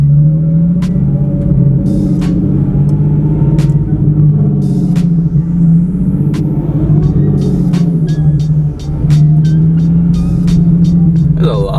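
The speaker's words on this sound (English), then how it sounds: "This guy's doing a donut backwards." A modified car spins backward donuts at a busy car meet, its engine droning loud and steady with revving swells and sharp tire or exhaust pops scattered throughout.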